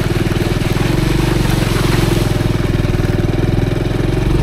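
Motorcycle engine chugging at low, steady revs while riding a rough, rock-strewn off-road trail on the way to a fort. The throbbing is loud, close and continuous, with wind noise and no voices.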